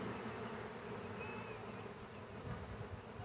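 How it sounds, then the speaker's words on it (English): A steady, dense buzzing of many honey bees in a hive fills the clip, continuous and close, with no other sounds standing out. "there's not that many bees in here"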